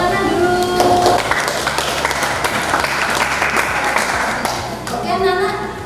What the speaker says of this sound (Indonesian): Coba beri tepuk tangan dulu.